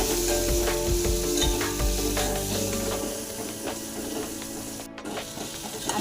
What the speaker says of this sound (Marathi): एवढे मसाले घालून घ्यायचे आणि हे चांगलं एकजीव करून परतून घ्यायचं